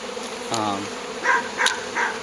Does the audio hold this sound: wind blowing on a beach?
no